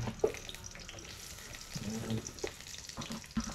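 Onion sizzling as it goes into hot oil in a pan, a soft low frying hiss with a few brief clinks and stirring sounds, fairly quiet throughout.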